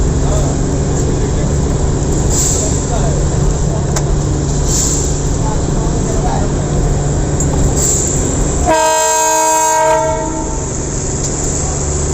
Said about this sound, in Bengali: দেখো ট্রেন আস্তে আস্তে যাচ্ছে